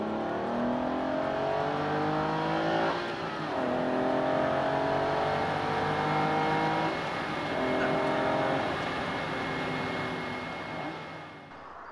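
Aston Martin race car lapping the Le Mans circuit, engine revving up through repeated rising gear sweeps with brief dips at shifts, loud and sustained, fading slightly at the end, no talk.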